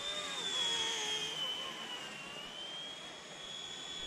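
A small, cheap, realistic-looking RC helicopter flies outdoors in wind, its faint high-pitched motor whine holding steady with slight wavering pitch and no voices.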